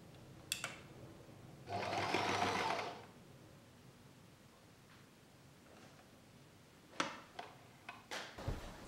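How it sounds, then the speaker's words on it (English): A sewing machine stitches fabric for camper van curtains, running in one steady burst of about a second, with scattered soft clicks and handling noises before and after. "do one stitch, a line of stitches closing the space, and it's actually working really well"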